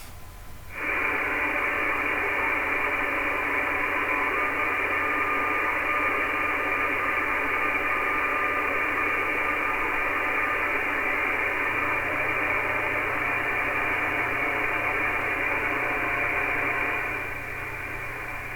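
A steady hiss of amateur radio receiver static on 145.744 MHz fills the clip, starting abruptly and holding at an even level before fading slightly at the end.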